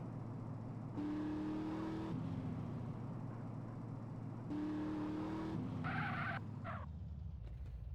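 A Mercedes AMG GTR in GTA DYOM, engine droning steadily while two sustained tire skids squeal in turn, followed by a brief burst of higher-pitched engine revving near the end.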